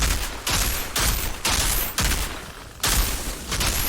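Gunfire in the video game Outriders comes as loud, close bursts of rapid shots, about seven separate volleys split by short gaps, with no talking.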